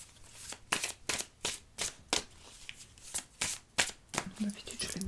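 A deck of oracle cards being cut and shuffled by hand, with roughly a dozen crisp, evenly spaced riffling bursts close to the listener and little else behind them.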